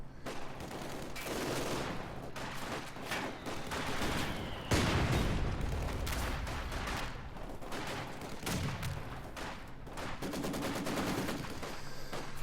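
Battlefield gunfire from the strategy game Company of Heroes 2: repeated bursts of machine-gun and rifle fire crackle in rapid, overlapping volleys, with heavier booms mixed in, fairly quiet overall and with no speech.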